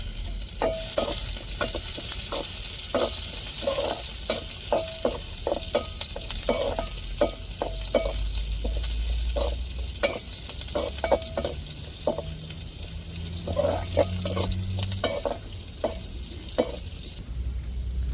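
Curry leaves fry and sizzle in hot oil during tempering, with a spoon clicking against the pan in quick, irregular bursts over a steady crackle.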